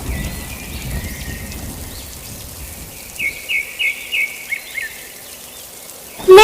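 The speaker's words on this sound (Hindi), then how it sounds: "हल्की हल्की बारिश भी शुरू हो चुकी थी।" Soft, steady patter of light rain in a cartoon forest, with a few high bird chirps breaking through near the end over the quiet background hiss.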